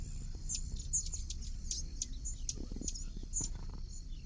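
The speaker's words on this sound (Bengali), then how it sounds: "খুব সুন্দর সুন্দর পাখি ডাকতেছে এই চারপাশে" Birds sing all around a river ghat, short bright chirps repeating irregularly over a steady low rumble.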